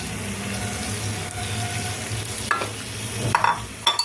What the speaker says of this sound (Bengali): তো এবার মশলাটাকে ভালো করে কষতে দেবো। এর মধ্যে আমি পনিরগুলো দিয়ে দেবো।